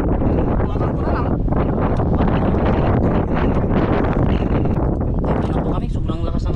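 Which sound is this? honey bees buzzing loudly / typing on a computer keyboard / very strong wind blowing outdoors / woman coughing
very strong wind blowing outdoors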